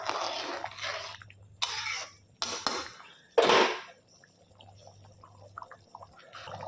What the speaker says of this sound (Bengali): তরকাটা হয়ে গেছে, নামিয়ে দিচ্ছি